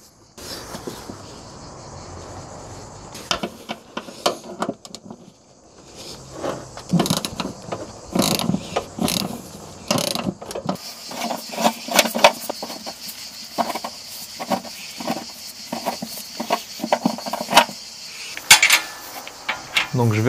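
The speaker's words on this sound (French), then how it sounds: "Donc je vais enlever mon boulon de 21 mm d'amortisseur. J'utilise ma clé KS Tools car c'est plus simple." A KS Tools ratchet wrench works on a 21 mm rear shock absorber bolt of a Citroën C3, giving close, irregular bursts of metallic clicking and clanking with brief pauses.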